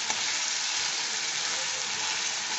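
Steady, dense sizzle of spices being sautéed with eggplant in oil for a Bengali curd eggplant dish, a continuous close frying hiss with faint stirring and no pauses.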